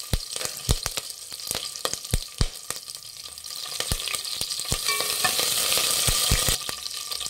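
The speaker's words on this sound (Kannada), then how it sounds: "ಸಾಸಿವೆ ಚಿಟಪಟ ಆಗಲಿ ಫ್ರೆಂಡ್ಸ್ ನೋಡಿ ಒಂದು ಕಡ್ಡಿ ಕರಿಬೇವು ಹಾಕ್ಕೊಳ್ಳಿ ಎರಡು ಬ್ಯಾಡಿಗೆ ಮೆಣಸಿನ್ಕಾಯಿ ಹಾಕ್ಕೊಳ್ಳಿ" Mustard seeds, curry leaves and byadgi chilies spluttering in hot oil for holige saaru, sharp scattered pops and crackles over a rising sizzle, close and lively with no talk.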